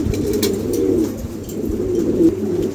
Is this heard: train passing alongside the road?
no